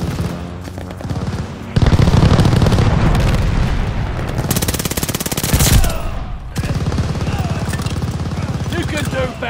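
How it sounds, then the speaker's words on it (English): Airstrike explosions and gunfire from the Call of Duty: Vanguard video game, a loud continuous battle din of rapid automatic fire with heavy blasts swelling in, while a voice speaks under the noise. "Allies called an airstrike."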